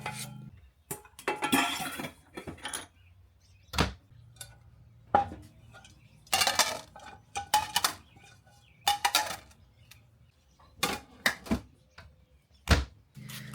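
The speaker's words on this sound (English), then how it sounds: "the first thing I do is get all the dishes washed, dried, and put away" Dishes being washed, dried and put away in a kitchen: irregular bursts of clinking plates, clattering utensils and knocks of stacked crockery, fairly close and loud, with quiet pauses between, no talking.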